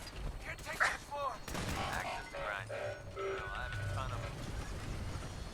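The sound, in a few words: gunfire in Fallout 4 video game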